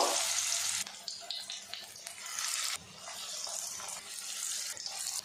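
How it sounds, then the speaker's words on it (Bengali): Malabar spinach leaf fritters frying in hot oil, flattened and put in the pan in batches: a close, bright sizzle with bursts and uneven surges as pieces go in and are turned, no voices heard. "দুটো ব্যাচে আমি বড়াগুলো ভেজে নেব।"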